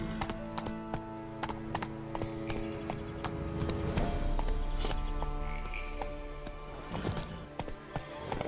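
Horse hooves from The Witcher 3 clop steadily and rhythmically at close range over a busy game soundscape, with a faint whinny.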